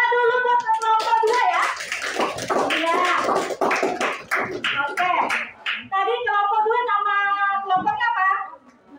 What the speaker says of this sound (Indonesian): Tepuk tangan dulu buat kelompok 2 ya